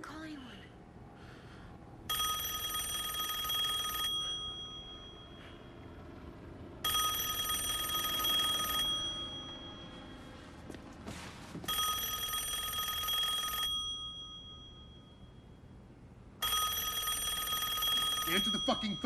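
Telephone ringing in four long, loud electronic bell bursts of about two seconds each, separated by pauses, with people speaking tensely in between.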